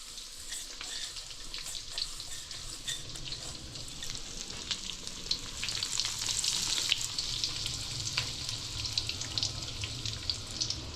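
Panko-coated calico bass, dipped in cold egg and water, frying in hot oil, a steady close sizzle and crackle with scattered pops throughout, no voices.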